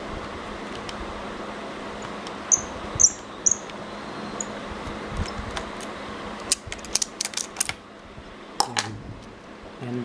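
Screw being removed from a Sony Vaio laptop, heard as a run of small ticking and clicking metallic sounds, close and fairly quiet, with brief scraping taps and no talk.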